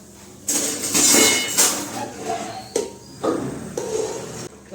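Rajma gravy is stirred in a metal cooking pot with clattering scrapes and clinks of a spoon against the sides, arriving in several loud bursts separated by brief pauses.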